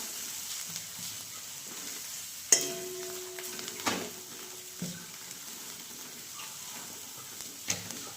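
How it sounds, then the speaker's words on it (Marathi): Homemade black chili spice and turmeric being stirred into soybean curry in a pan, with a faint steady sizzle and a few sharp clinks of a spoon against the metal. "थोडीशी हळद टाकते आणि हे आपलं घरगुती काळा तिखट व्यवस्थित हलवून घेते चांगलं"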